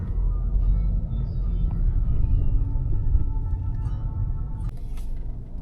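A taxi car drives through the city at night, with a steady low engine and road rumble heard from inside the cabin, continuous and fairly loud, without talking.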